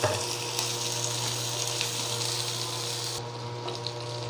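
Onion, curry leaves and green chilli fry in hot oil with a steady, dense sizzle that holds throughout, with faint stirring scrapes and a slight drop in the high hiss near the end.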